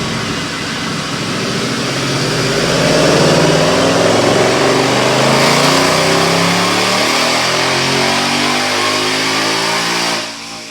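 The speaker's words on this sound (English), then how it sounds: "93 octane manual ROUSH blower, laying down at 700 to the tires. It's sick. Watch this dyno pull." A bone-stock 2020 Mustang GT with a manual gearbox, Roush Phase 2 supercharger and 93 octane fuel roars through a sustained full-throttle dyno pull, its pitch climbing steadily for about ten seconds before cutting off abruptly.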